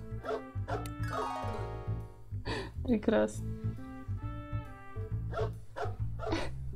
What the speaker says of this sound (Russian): Он под музыку гавкает